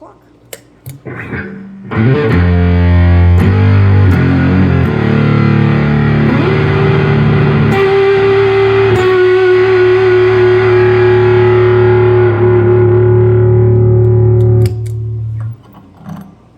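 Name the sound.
electric guitar through Pro Co RAT2 distortion pedal, knobs at noon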